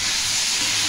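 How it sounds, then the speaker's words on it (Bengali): Potatoes sizzling in hot oil in a kadai, a steady bright hiss of frying that holds evenly throughout, close and fairly loud, with no one talking. "কড়াইতে আলু দিয়ে দিয়েছি, তেল গরম হয়ে গেছিলো, আলুগুলো এবার ভাজা ভাজা হবে"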